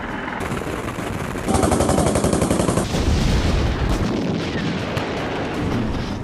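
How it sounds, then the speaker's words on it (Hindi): Russian artillery shelling in Ukraine, dense rapid bursts of heavy gunfire and booming blasts, loud and close, with a sustained rattling stretch in the middle. "रूस की तोपों के गोले जहां जहां पर गिर रहे हैं"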